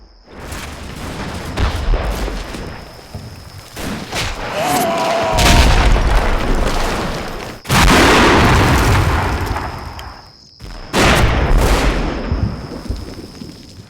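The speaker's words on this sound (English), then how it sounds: "my two mortar teams have reached the top of Hill KT-1, have set up, and I am using them to bombard the sandbag positions near the road" Mortar shells exploding in the Combat Mission: Fortress Italy war game, a series of loud booming blasts with rumbling tails, separated by short pauses, alongside scattered gunfire.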